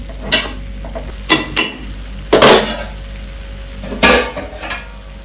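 A lid is set on a pan of moringa leaves being dry-fried, giving several sharp metallic clanks and clatters spaced over a few seconds above a faint background.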